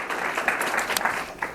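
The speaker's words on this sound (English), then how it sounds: "Let's give Kyle another round of applause." An audience at a fire service awards ceremony gives a brief burst of steady clapping, moderately loud with a few sharper claps standing out.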